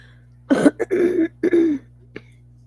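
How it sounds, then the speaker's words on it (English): A run of harsh, throaty coughs in quick bursts, close to the mic, trailing off into one short final cough. "Coughing"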